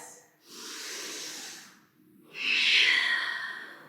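Two slow, deep yoga breaths, a long airy inhale followed by a stronger, hissing exhale, heard close and alone.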